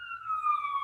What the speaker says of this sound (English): Ambulance is coming for Karen.